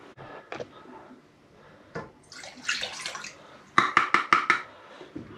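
Hot water poured into a camp cooking pot for cornmeal mush, a splashing pour that builds midway and ends in a short run of rhythmic sloshing bursts as it is stirred through, heard close and alone.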